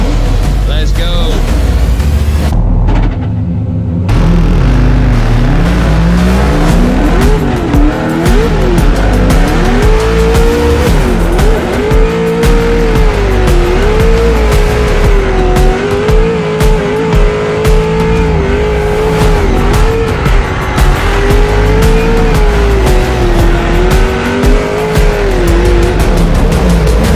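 Race cars scream past on a circuit, engines revving hard and rising and falling in pitch while tires squeal through the corners; loud, continuous and close, with a brief gap early on.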